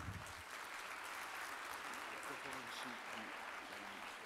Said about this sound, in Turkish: alkışlarla arkadaşlarımızı gönderelim